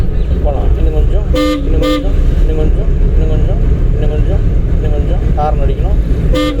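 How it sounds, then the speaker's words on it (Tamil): During a driving lesson, a car horn gives two short honks and later a third over steady engine and road drone, with people talking throughout. "ஹார்ன் அடிக்கணும்."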